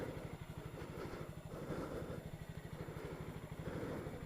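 A 2017 Honda Grom motorcycle engine runs steadily at close range, its rapid low pulsing firing beat continuous throughout with no talking over it.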